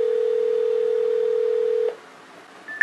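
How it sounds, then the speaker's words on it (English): A phone calling its own number produces a steady single ringback tone that holds for nearly two seconds, then cuts off to near silence before a short higher beep sounds at the end. "We're calling ourselves, and hopefully our phone responds."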